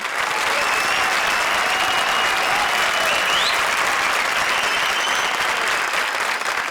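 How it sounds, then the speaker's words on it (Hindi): Loud, sustained audience applause fills a comedy show stage as four poetic duos are called up, a dense steady wash of clapping with crowd noise and faint voices underneath. "हमारी चारों शायराना जोड़ियों के लिए एक बार जोरदार तालियां।"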